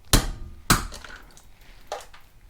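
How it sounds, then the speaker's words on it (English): Hammer blows knock at a Honda mower wheel bearing, two loud sharp metallic strikes close together, then a softer third hit after a pause, in a quiet workshop. "see if we can just hammer it out."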